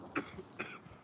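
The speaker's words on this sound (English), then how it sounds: "He's coughing. It's me." A person gives two short, fairly faint coughs about half a second apart, heard over a quiet background during a tactical shooter game.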